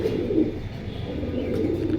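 Pigeons coo continuously and close by, low soft calls overlapping against a steady background murmur.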